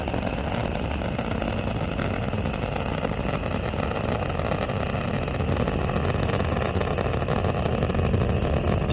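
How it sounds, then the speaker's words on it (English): Space Shuttle Endeavour's engines roar during launch as one steady, dense, unbroken rumble that holds evenly loud throughout, with no one speaking. "Endeavour's engines are now throttling down"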